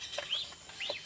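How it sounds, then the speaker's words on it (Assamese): Ducklings raised at a rural home chirp in two thin, faint rising peeps about half a second apart, alone over quiet background. "মই এইকেইটা হাঁহ পোৱালিকেইটা"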